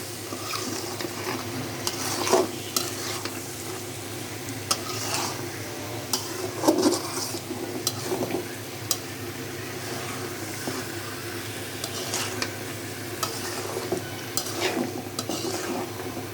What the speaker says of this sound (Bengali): এখন নাড়াতে দিচ্ছি।